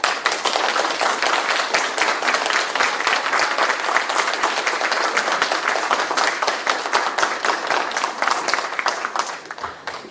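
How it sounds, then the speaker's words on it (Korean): A crowd at a Korean political campaign event for candidate Kim Moon-soo breaks into sustained applause, dense clapping from many hands held at an even level before tapering slightly at the end. "박수 한번 주세요."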